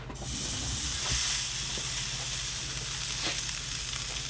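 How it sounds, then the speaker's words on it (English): Loud, steady sizzling close by, a constant hissing sizzle as beef steaks hit a hot grill, with no talking. "Gotta go down for the sizzle."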